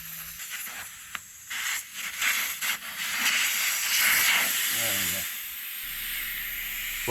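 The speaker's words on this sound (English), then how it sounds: "Next, take out the valve stem." Air hisses out of a tire on an M38A1 military jeep as the valve stem is removed, a loud broad rushing hiss swelling after a few clicks and fading toward the end, with some handling noise.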